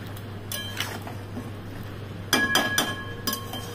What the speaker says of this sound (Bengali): এবার ঢাকাটা আবার সরিয়ে আবার একটু নেড়ে দেব